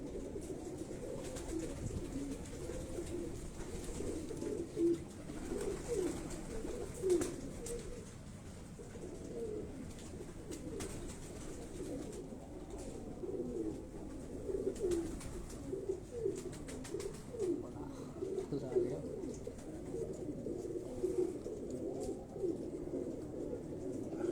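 Pigeons on a rooftop coo softly and repeatedly at a distance, low throaty calls recurring over faint background noise.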